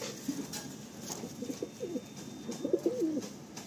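A Madrasi pigeon coos in soft, low, repeated phrases, close by and fairly quiet, with short pauses between calls.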